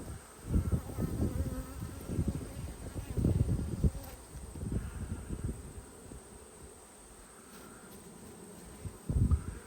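Honey bees buzz around an open nucleus hive frame with emerging brood, a steady close droning hum with handling bumps and a few louder thumps, no talk.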